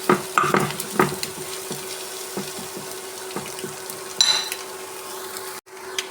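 Chopped boiled egg is stirred into a mixture frying in a pan, with scraping and clattering spoon strokes, the loudest at the start, over a soft continuous sizzle.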